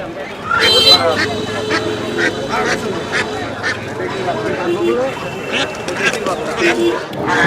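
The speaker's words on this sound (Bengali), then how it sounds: "দর্শক এখানে চায়না হাঁস দেখা হচ্ছে" China ducks quacking and honking repeatedly at a busy village market, close and loud amid constant crowd babble and people talking.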